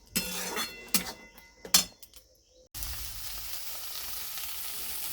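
Pieces of pointed gourd are stirred in a pan with a few sharp utensil scrapes, then a steady, soft sizzle of frying takes over.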